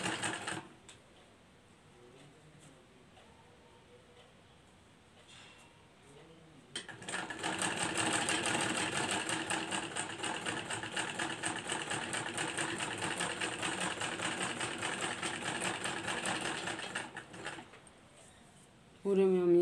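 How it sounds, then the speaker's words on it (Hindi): Sewing machine stitching lace onto a kurti neckline, a steady continuous whirring run lasting most of the stretch, preceded by quiet handling and soft speech, stopping briefly near the end. "कुर्ती के उल्टी साइड हम सेंटर से सेंटर मिलाते हुए इसको कुर्ती के ऊपर स्टिच करेंगे"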